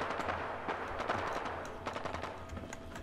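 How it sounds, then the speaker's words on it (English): Distant gunfire in Fallout 4, bursts of rapid automatic shots and scattered single cracks echoing faintly from far off over ambient game background. "Little sound of gunfire. Off in the distance."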